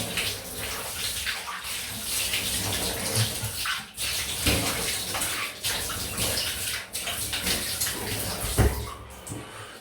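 Water from a tap runs steadily into a sink for rinsing after a wet shave, a loud, continuous close-up splash and rush with no pauses.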